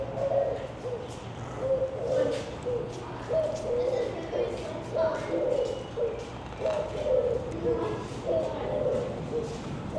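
Pigeons coo over and over at a wildlife park's bird area, soft repeated calls close by, with a person talking at times over them.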